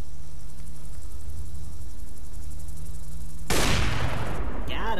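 A sudden loud crack of a sniper rifle shot in the Fleeing the Complex game, cutting in after a quiet hum and trailing off into a brief ringing decay, with no voices over it.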